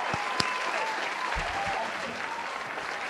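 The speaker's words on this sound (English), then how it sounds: "I will give them a round of applause." A crowd's round of applause: dense, steady clapping that fills the whole short stretch at an even level, with no pause or fade.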